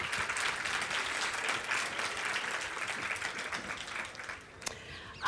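Steady applause from a seated audience greeting speakers at a literature festival session, dense and even for several seconds before thinning out near the end.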